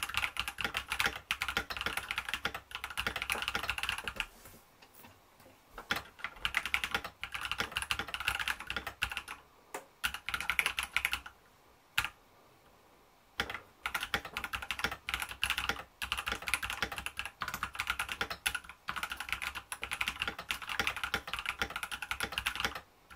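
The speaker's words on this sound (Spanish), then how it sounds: "el ruido que se produce al aporrear los interruptores mecánicos de este teclado de HyperX" Steady, rapid clacking of mechanical switches on a HyperX Alloy Rise 75 keyboard, close and crisp, continuing for a long stretch with a couple of brief pauses.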